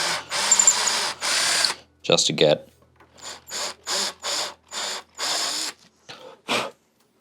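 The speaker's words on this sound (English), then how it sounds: "I'm actually drilling backwards." A drill run in reverse to clear gunk out of a guitar bridge post hole, in a few loud, close bursts with pauses between them, while someone talks in between.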